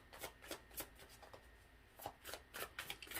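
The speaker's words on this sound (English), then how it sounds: "Let's keep shuffling these cards and see what else comes out." Tarot cards being shuffled by hand in repeated quick riffling bursts, fairly quiet and close, with no talking over them.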